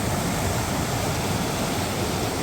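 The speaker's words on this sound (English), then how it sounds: "I crossed kind of down below that log that has the waterfall going over it" A forest river waterfall pours over a log, giving a loud, steady, broadband rushing roar that holds constant throughout without pause.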